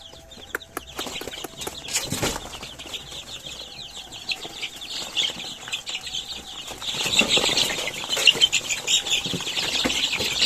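Farm chickens cluck, squawk and flap their wings as they are caught for vaccination, with bursts of loud wingbeats and agitated calls rising toward the end; no talk.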